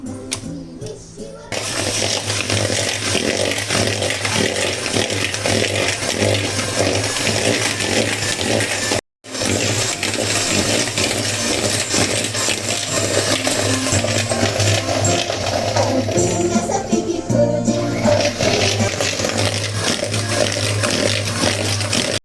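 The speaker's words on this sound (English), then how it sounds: "Now we'll mix it nicely until the butter is soft and fluffy." Butter and brown sugar for a Christmas plum pudding beaten in a bowl with an electric mixer, a loud continuous whirring drone with one brief pause near the middle.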